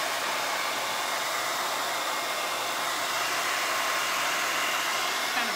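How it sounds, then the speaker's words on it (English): A hair dryer blows heat over a fresh acrylic paint pour on a fall leaf door hanger, a loud steady rushing airflow running the whole time without pause. "I was wondering if I started to heat dry it, what would happen."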